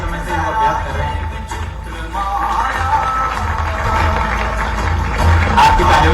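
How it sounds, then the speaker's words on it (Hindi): An audience at a sports demonstration in Bhopal breaking into applause for athletes, a low rumble of scattered clapping and crowd noise that swells toward the end, with a voice talking over it. "आपकी तालियों की गड़गड़ाहट खिलाड़ियों को प्रोत्साहन देगी, प्रोत्साहन बढ़ाएगी"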